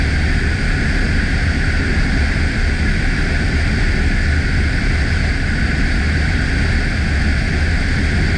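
Steady, loud drone of a propeller airplane in flight as it descends toward pattern altitude over an airport, broadband engine and wind roar holding constant throughout with no talk.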